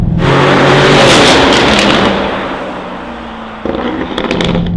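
Lamborghini Urus fitted with a Novitec exhaust system and X-pipe, its engine roaring loudly and close, easing down, then picking up again with sharp crackles near the end.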